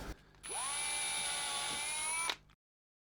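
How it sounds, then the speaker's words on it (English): A power drill spins up and whines steadily for about two seconds, biting into an MDF board, then cuts off into silence. "if I don't drill these first, like the board will split"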